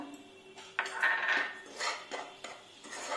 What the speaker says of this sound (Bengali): দিয়ে সুজিটা একটু ভালো করে নাড়িয়ে নেব কিছুক্ষণ।